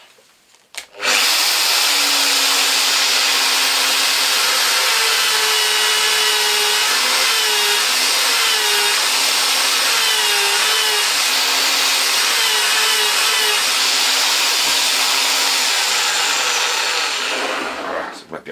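An electric drill whines steadily and loudly for most of the clip, packing a shotgun cartridge, its pitch wavering slightly as it presses down, starting and stopping abruptly.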